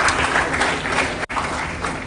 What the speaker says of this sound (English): Another round of applause for the CDS.